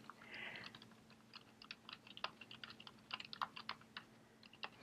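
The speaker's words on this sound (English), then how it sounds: "I'm going to type in the exact link here." Computer keyboard being typed on in quick irregular bursts of soft clicks, faint and close, with a brief rustle at the start and no talking.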